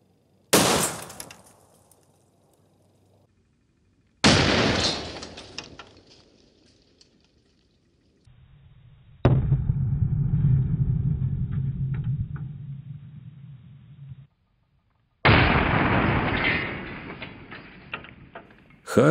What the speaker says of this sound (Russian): Хороший такой пинок под зад монитору получился, петарда оказалась сильнее.